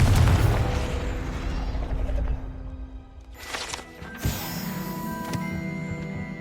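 A Confringo spell explosion in the Hogwarts Legacy video game, with a dense rumbling blast that fades, then sharper pops and a ringing burst over mechanical clatter.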